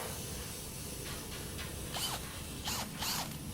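A spinning flail tool scrubs the inside of a car frame rail during alkaline cleaning, giving a steady mechanical whir with a few sharp rattling bursts toward the end.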